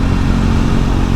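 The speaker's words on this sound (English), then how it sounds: "You get a nice little engine note, you get a nice little note off the exhaust as well." A Triumph Scrambler 400 X single-cylinder motorcycle engine runs steadily with its exhaust note, a loud, continuous low rumble throughout with no talk over it.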